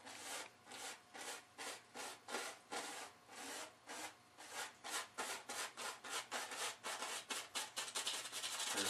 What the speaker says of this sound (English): So just scrub some of this color in here.